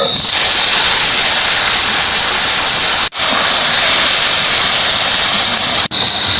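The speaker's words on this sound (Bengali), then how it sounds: "ফোড়নে দেব জিরে শুকনো লঙ্কা তেজপাতা ফুলগুলো দিয়ে দেব" Cumin seeds, dried red chillies and bay leaves sizzle in hot oil as a tempering for a fish curry, a steady close hiss that runs unbroken apart from two brief dropouts.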